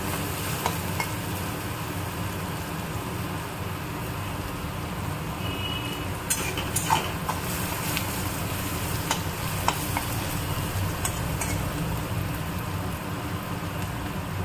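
Onions frying in a pan for a lentil dal, with a steady sizzling crackle and occasional stirring scrapes, close and continuous with no talking.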